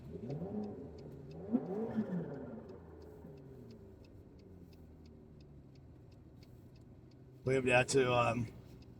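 A McLaren sports car at a Texas car event gives one short, loud engine rev near the end, after a stretch of talking and a quiet idle hum.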